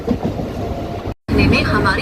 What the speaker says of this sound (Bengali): ফাইনালি ট্রেন ছেড়ে দিয়েছে তো বাগনান থেকে বেরিয়ে যাচ্ছি আমরা